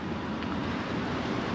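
Wind blows steadily outdoors in open high-desert ground, a continuous broadband rush with low buffeting against the microphone, no voices present.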